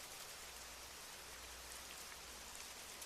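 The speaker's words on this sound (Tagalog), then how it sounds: "umuulan ng malakas." Heavy rain pours down steadily, a dense continuous hiss of drops with no pauses and no voices.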